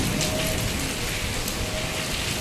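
Heavy rain pours steadily in a rural Punjab village, a dense, constant hiss of drops pattering on surfaces, loud and even throughout with no voices.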